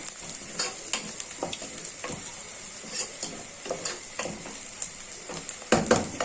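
Chopped onions fry in a pan with a steady, close sizzle, broken by repeated scraping stir strokes of a utensil; no one speaks.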